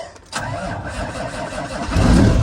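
A semi truck's diesel engine cranks briefly on a cold day, catches, and settles into a loud, rough idle that swells louder toward the end, close by with no talk.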